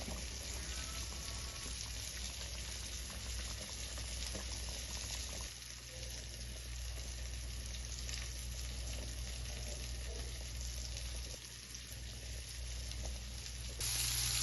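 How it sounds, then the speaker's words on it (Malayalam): Tuna pieces frying in a pan for a Kerala-style fish dish give a steady, close sizzle of hot oil, with a brief gap and a louder bubbling burst near the end. "നമ്മുടെ മീൻ ഫ്രൈ ഒരു സൈഡ് സെറ്റായിട്ടുണ്ട്. തിരിച്ചിടാം."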